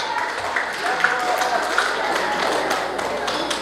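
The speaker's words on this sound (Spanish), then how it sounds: "¡Que se escuchen las palmas!" Guests clap at a birthday celebration in San José Río Lagarto, Copala, a continuous patter of palms spread through the crowd, with voices and chatter mixed beneath it.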